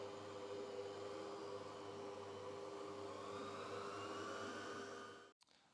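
Stand mixer running slowly on potato burger bun dough, a steady motor whir and hum with a constant tonal drone that cuts off abruptly near the end.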